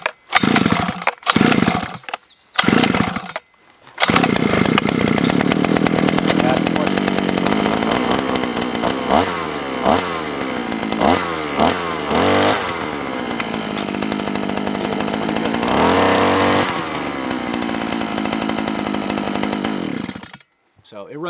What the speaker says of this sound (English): Let's just choke it and see.